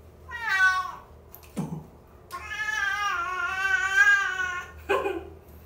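A frightened cat meows loudly and repeatedly while being bathed, its cries long, wavering and wailing like a distressed infant, close by with brief pauses and a splash of water between calls.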